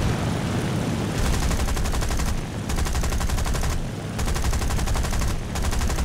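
A rear gunner on an SB2C-1C Helldiver dive bomber fires a machine gun in War Thunder. Three long, rapid, loud bursts of close gunfire play over a steady engine drone, with short pauses between them.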